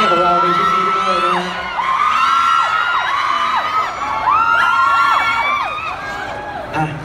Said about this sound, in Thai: ขอเสียงปรบมือกับคุณอิงอีกครั้งหนึ่งนะครับ